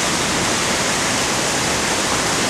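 Heavy water pours and roars through the roof of a flooded limestone cave, a loud, unbroken rushing wash close by with no voices.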